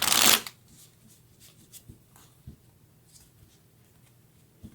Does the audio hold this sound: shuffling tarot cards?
yes